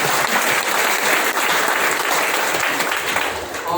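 Loud, sustained applause from an audience at a stage event in Boisar, dense and steady throughout with no break, ending slightly softer.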